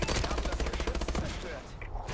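Rapid automatic gunfire from a turret in Call of Duty: Advanced Warfare, a dense, continuous burst of shots that stays loud and close before easing off near the end.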